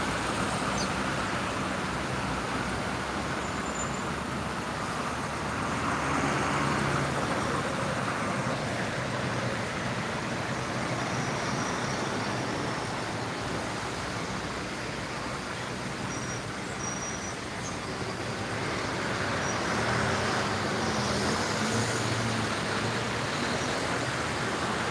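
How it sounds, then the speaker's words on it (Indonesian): Steady, dense traffic roar on a congested Jakarta toll road, a continuous broadband rumble of cars, buses and trucks at moderate distance with no distinct passes or voices. "Ini macet sangat lumayan"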